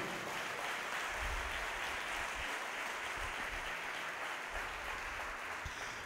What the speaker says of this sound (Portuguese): Você pode mais uma vez dar um aplauso ao Senhor?